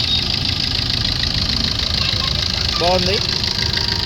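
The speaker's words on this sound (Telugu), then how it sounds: "ఇంజన్ బీటింగ్ కూడా బాగుందండి." A 2012 Maruti Ertiga VDI diesel engine idles with a steady, even rumble that runs throughout, while someone briefly speaks over it near the end.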